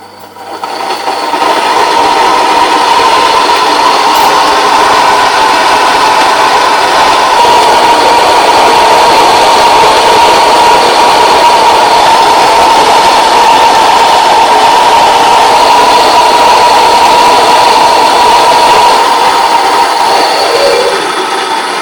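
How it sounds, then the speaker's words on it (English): An electric grain mill grinds sorghum and maize together with a loud, steady mechanical roar and whine that holds unbroken for about twenty seconds before easing slightly at the end. "The two grains are mixed automatically as it milled."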